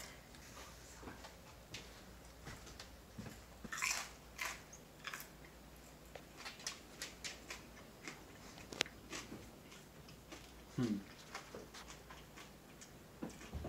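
Quiet, close crunching and chewing of crispy pork belly, with scattered crisp bites and ticks over a low background hum, no talking.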